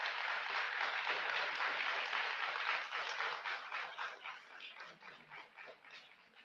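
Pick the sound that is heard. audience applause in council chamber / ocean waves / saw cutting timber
audience applause in council chamber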